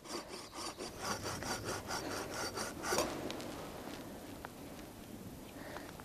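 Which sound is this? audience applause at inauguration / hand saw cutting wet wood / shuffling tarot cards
hand saw cutting wet wood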